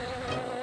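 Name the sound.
bee buzzing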